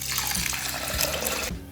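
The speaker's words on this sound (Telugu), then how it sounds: "1/4 కప్ వాటర్ వేస్తున్నాను." Water pours steadily into a pressure cooker holding soaked basmati rice, a close, continuous splashing gush that stops near the end.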